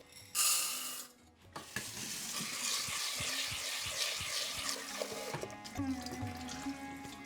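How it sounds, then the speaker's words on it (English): Running water splashes and swishes in a bowl as chana dal lentils are rinsed and stirred, with a brief loud gush at the start. "I am going to add 400 grams of chana dal in here and just give it a quick wash"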